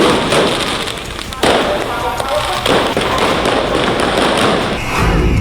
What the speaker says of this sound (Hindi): सुरक्षा कर्मियों पर आतिशबाजी से हमले किए गए